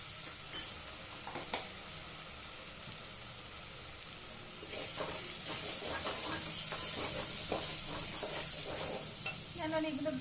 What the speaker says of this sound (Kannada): ನಾನೀಗ ಒಗ್ಗರಣೆ ಸೇರಿಸ್ತಾ ಇದ್ದೀನಿ